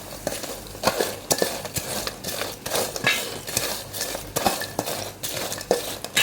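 Banana chips being tossed with spice powder in a metal pan for Kerala-style spicy Onam chips, giving repeated scraping and clinking stir strokes at an irregular rhythm, close and moderately loud with no talking.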